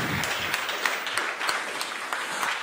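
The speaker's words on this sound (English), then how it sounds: "Do you have a short applause for the FSF for that video?" Conference audience gives a short, moderately loud round of applause for the FSF, scattered individual claps standing out within a steady patter.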